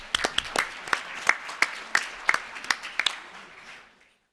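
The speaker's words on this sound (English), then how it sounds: "so just have everybody a round of applause" A small, sparse round of applause at a school board meeting for a birthday, a dozen or so distinct claps spaced irregularly, then fading out to silence.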